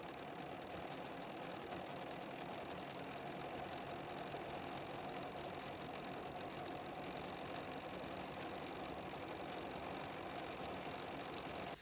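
An overlock sewing machine runs steadily as it stitches along the edge of a piece of fabric, giving a faint, even mechanical whir with no pauses and no talking.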